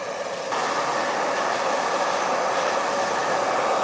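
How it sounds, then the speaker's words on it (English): A light hair dryer at a barbershop switches on and runs with a steady, even whoosh of airflow, loud and close, with no pauses or voices. "It's a light blow dryer."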